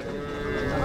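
A docile dairy cow at a dairy cattle fair in Capoeiras, Pernambuco gives a short, close, low moo lasting under a second.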